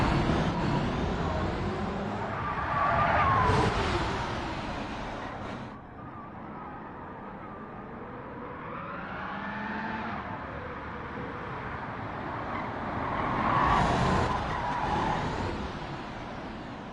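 A Corvette CX hypercar races in Gran Turismo 7 at well over 200 mph, its engine roaring loud and close, surging and falling with gear changes, with tire squeal and passes through the run.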